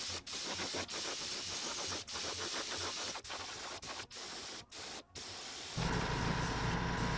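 Airbrush spraying satin gold paint onto a handmade smallmouth bass lure, a steady close hiss broken by brief trigger pauses, with a shift in tone near the end.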